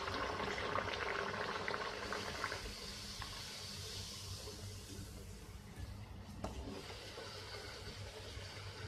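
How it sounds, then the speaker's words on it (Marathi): Spicy puris frying in hot oil, a dense continuous sizzle and bubbling that is loudest at the start and settles into a steady, moderately quiet crackle with no voices. "आता आपण या पुऱ्या तळून घेणार आहोत। तेल तापलेलं असलं पाहिजे।"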